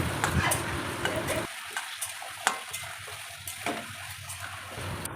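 Chunks of gaati kochu taro and potato fry in oil over low to medium flame, a dense close sizzle with occasional stirring knocks and scrapes, and no one speaking.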